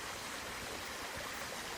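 A creek in Cleveland National Forest flowing steadily, giving a continuous broad rushing and burbling wash of water with no breaks, close and even in level, with no voices.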